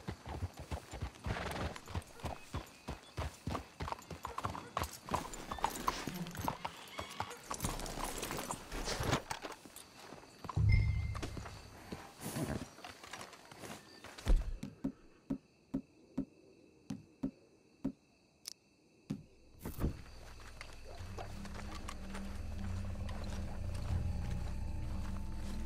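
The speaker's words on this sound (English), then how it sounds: "Let's hitch your horses up ahead." Horses' hooves clip-clop in a video game, a steady brisk trot that slows into sparser, separate hoof strikes near the end, heard alone with faint ambient background.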